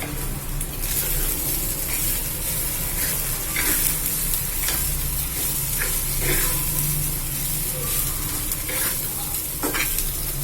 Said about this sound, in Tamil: இதை நல்லா பிரட்டிக்கலாம்.